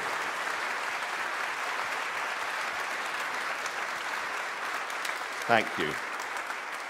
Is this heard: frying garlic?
no